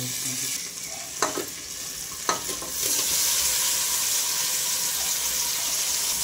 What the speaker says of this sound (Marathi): आता हे बघा, भाजी टाकलेली. आता हलवून घेऊ.